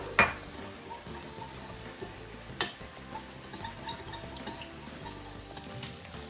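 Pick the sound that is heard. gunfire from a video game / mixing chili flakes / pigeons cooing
mixing chili flakes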